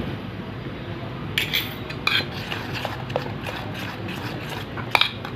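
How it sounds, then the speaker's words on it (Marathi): A spoon stirs dhokla batter in a metal vessel in one direction just after soda has been added. Soft, steady swishing is broken by a few sharp metallic clinks against the rim, close by. "कसं हलवायचं आहे आपल्याला एकाच बाजूने असं गोल"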